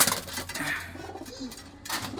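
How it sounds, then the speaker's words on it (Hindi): Low cooing of Teddy pigeons murmurs over a constant background drone, with a couple of brief noisy bursts; no one speaks. "कबूतर देखिए, इनका अंदाज देखिए आप"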